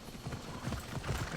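Horse hooves clip-clop in Assassin's Creed Odyssey, a quick, even run of hoofbeats close by over soft game ambience.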